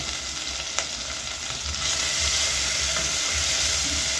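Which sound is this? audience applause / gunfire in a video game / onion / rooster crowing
onion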